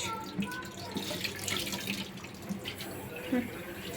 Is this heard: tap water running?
yes